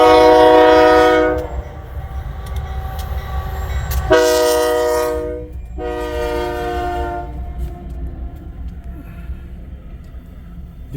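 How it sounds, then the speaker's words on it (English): A Union Pacific locomotive pulls a brand-new Via Rail Canada passenger train, its horn blaring in long loud blasts over the heavy rumble and clatter of the passing cars. "here's UP pulling the brand new Via Rail"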